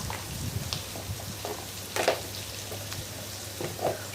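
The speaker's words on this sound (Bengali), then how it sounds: "আমি কতক্ষণ এই যে চিংড়ি মাছটা ভাজা নিব।" Shrimp sizzling in a pan with chili, cumin and coriander powder for a taro and shrimp curry, a steady soft crackle broken by a few brief louder pops, close and with no talking.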